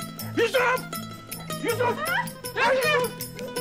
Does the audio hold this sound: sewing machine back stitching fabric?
no